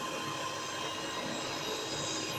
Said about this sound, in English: I'm whisking the egg. I'll whisk this egg until it becomes foamy.